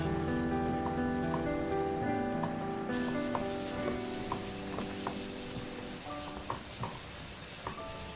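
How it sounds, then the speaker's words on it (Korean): Potatoes simmer with oligosaccharide syrup in a pan over medium heat, giving a close, continuous bubbling sizzle with scattered pops and a faint stirring scrape. "감자에 올리고당을 넣고 중불로 익히고 중간중간 섞어줍니다"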